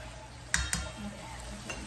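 Chickpea taco filling cooking in a pan and being stirred, with a steady low sizzle and two sharp utensil clinks against the pan close together.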